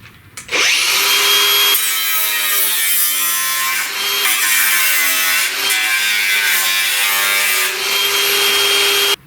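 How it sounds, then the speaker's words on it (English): Power cutting tool slicing through rusty sheet metal on a 1969 C10 truck front fender, a loud, steady high-pitched grinding whine that runs continuously after a brief start-up. "First thing we'll do is cut down through this piece here."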